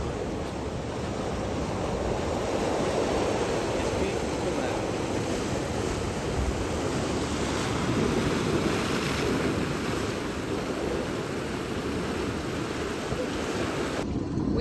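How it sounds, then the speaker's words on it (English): Big ocean waves and surge wash loudly and steadily around a sailboat leaving Manele Harbor on Lānaʻi, with heavy wind rumble buffeting the microphone throughout. "A little surgy, getting out. Big waves."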